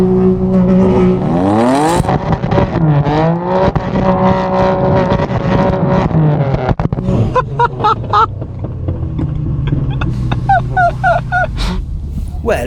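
A Ferrari engine revs hard and accelerates, loud and close, its pitch sweeping up and down through gear changes before settling into a lower drone with sharp crackles and pops on the overrun.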